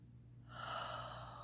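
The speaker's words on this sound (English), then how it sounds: "it's really about taking that time for deep breathing" A single deep breath taken during a guided breathing session, a soft airy inhalation that begins about halfway through and swells close and clear, with no talk.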